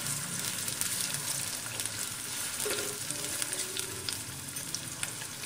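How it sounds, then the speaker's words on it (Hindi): An onion fries in a pan for an egg curry, producing a constant, dense crackling sizzle with faint stirring scrapes underneath; no voices. "बस एक प्याज आप दीजिए इसमें इसे थोड़ा भूनना है"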